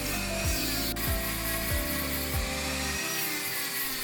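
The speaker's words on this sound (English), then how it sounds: "using a Dremel rotary tool with a flex shaft and rough sanding attachment" A Dremel rotary tool on a flex shaft with a rough sanding attachment grinds against a leather wristband strip, a steady abrasive whir with rhythmic dips as the sander moves back and forth, loud and close with no talk.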